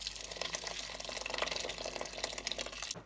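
Hot water is poured over salted diced potatoes in a pot, a steady close splashing stream with small gurgles throughout, heard alone for about three seconds.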